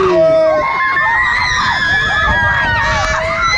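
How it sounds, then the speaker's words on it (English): Crowd of riders screaming together on a swinging pirate ship ride called Gladiator Galleon at a theme park, loud and close, overlapping high-pitched shrieks sustained throughout. "everyone's just screaming their head off on this one"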